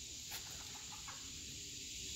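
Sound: chickens clucking at feeding time

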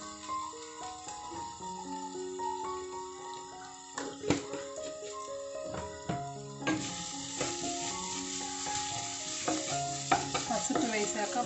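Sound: stirring ginger garlic paste frying in a pan for egg curry

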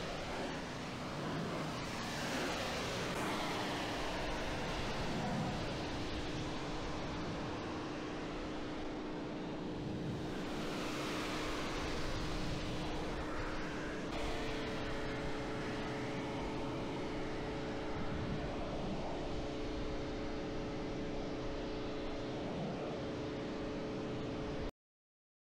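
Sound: AVA P57 pressure washer spraying with 20 degree Vario nozzle

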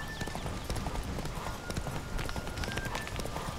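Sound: Geralt's horse Roach galloping in The Witcher 3 video game

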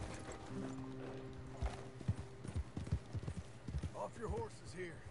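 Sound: horse hooves clip-clopping, from a video game

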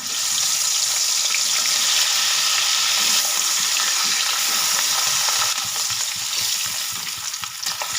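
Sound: lightly frying hilsa fish in mustard oil

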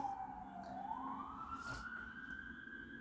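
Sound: ambulance siren passing by

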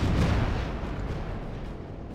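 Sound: naval guns firing a volley in Battlestations Pacific video game

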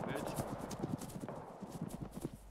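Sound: horse hooves clip-clopping in video game ArmA 3

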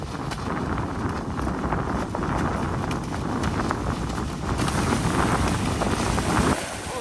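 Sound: strong wind

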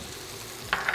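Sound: butter sizzling in pan with seared steak

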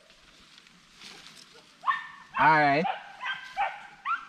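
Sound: dogs barking while hunting iguana

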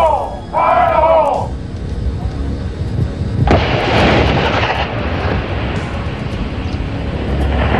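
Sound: explosion of Marine demolition charges

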